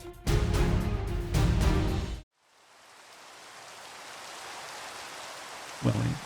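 Steady rain hiss in a Minecraft-style zombie survival game, rising gradually after a loud burst of music cuts off, with a brief low tone near the end.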